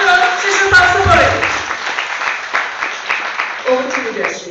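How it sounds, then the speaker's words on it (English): An audience at a national mental health conference claps, starting under voices and then settling into a ragged run of close hand claps that rise and fall over several seconds. "Another big round of applause for Dr. Shishi Palsapuri."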